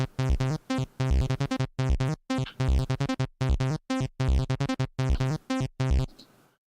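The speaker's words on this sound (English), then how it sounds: "So that's beginning to sound like acid." A buzzy, harmonically rich acid-style synthesizer built in Unreal Engine 4 plays a fast 16-step sequence of short, evenly spaced notes with small gaps, loud and alone, before stopping abruptly.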